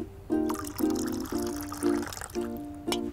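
Water is poured out for gardening, glugging in a rhythmic series of short gurgling bursts, about six pulses separated by brief gaps, close and moderately loud.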